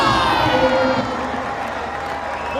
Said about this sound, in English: the entire crowd at the Lal Bhai Contractor Cricket Stadium is up and applauding the knock of Solomon Mire